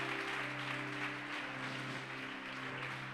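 A church congregation clapping in praise during an evening service, dense and continuous, heard at moderate distance with a low steady hum underneath.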